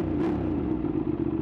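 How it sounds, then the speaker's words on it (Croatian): Motorcycle engine through a new aftermarket exhaust on a QJ bike, a steady close rumble with a brief louder swell near the start, no talk over it. "novi auspuh na QJ-u"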